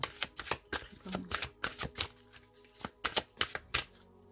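Oracle cards are shuffled and drawn by hand, making a close, quiet burst of sharp papery flicks and riffles in an irregular rhythm.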